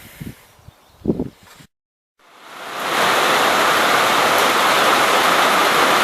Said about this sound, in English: You can, I think, see the water running off the roof and everything. It's raining pretty good.